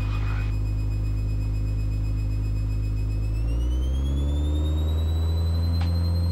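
A Mooney M20E's engine drones steadily at full power during the takeoff roll, a loud continuous tone whose pitch rises smoothly partway through as it spools up, heard from inside the cabin with no talking.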